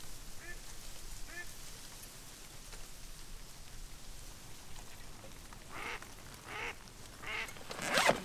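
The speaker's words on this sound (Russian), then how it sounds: "Вон там вдалеке, видишь, парочка уточек идет вдоль камышика." A pair of ducks by the reeds on a hunt, giving a few faint quacks at first and then louder bursts, all over a steady patter of rain.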